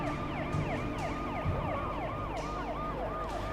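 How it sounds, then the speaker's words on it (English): A police siren sound effect from the video game Alan Wake Remastered wails continuously throughout, its rising and falling tones cycling steadily at a moderate, even level with no talk. "Was that the stock police sound effect?"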